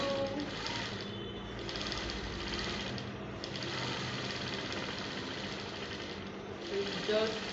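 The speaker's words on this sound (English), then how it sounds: "I'm going to just go ahead and top stitch on those lines again" A sewing machine top stitches along the lines of a fabric fila, an African men's cap, giving a steady, continuous mechanical whir at close range that holds through the whole stretch with little change.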